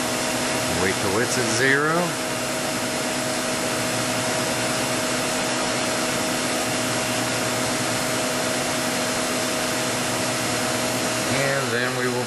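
A machine's Y-axis traverses forward, giving a steady, loud mechanical whir and hum that runs unbroken through the whole stretch while someone talks briefly near the start and again at the end.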